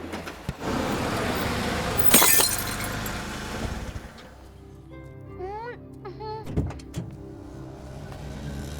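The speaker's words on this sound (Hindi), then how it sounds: "तुमने मेरी गाड़ी की लाइट तोड़ दी" A car headlight's glass breaks with a sharp crash amid car noise, followed by quieter clatter, a few tonal chirps and a voice talking nearby.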